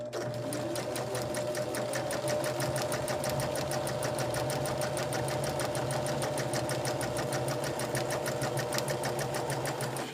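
A sewing machine stitches steadily at a fast, even rhythm, its motor humming close up without pause throughout.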